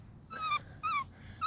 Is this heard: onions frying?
no